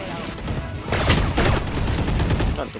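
Rapid bursts of gunfire in a shooter video game, a dense fusillade of sharp close shots clustering in the middle of the clip, with faint game tones and little talk.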